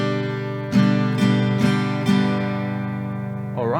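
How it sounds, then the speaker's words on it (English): Acoustic-style guitar strummed in a simple pattern, downstrokes on the beat and upstrokes on the off beat, four bright accented strums ringing out clearly over a held chord, close and alone. "we're going to go down on the beat and then up on the off"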